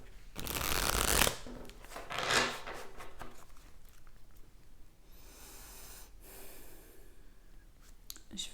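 Cards are shuffled up close in two quick riffling bursts, then softer slides and taps follow through a quiet room, with no voice over the handling.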